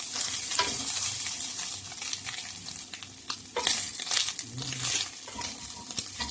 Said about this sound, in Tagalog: ilagay na natin ang ating chicken. Ihalo-halo natin guys.